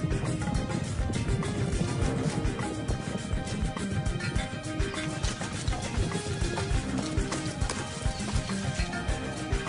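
Many mouflon sheep hooves drum rapidly across the ground in a dense, continuous galloping patter, loud and close, with no voices.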